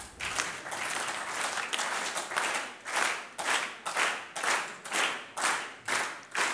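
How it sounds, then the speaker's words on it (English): A large conference audience claps together, the scattered applause settling into a steady unison beat of sharp, loud collective claps at roughly two per second, with no talking. "When I count to three, I'd like you to all start clapping and try to synchronize your clapping."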